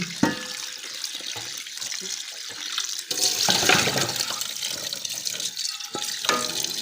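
Running tap water splashes over freshly sliced ingredients being washed in a kitchen sink, with soft clatters and a louder gush of flow midway, no voices.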